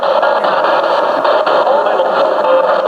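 Radio static runs through a Honeytone mini amplifier at a haunted 1885 train depot in Brooksville, a loud, steady, buzzing hiss with faint garbled fragments inside it.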